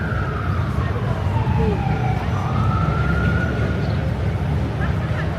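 A wailing emergency siren rises and falls in the distance over heavy traffic rumble and street noise in New York City.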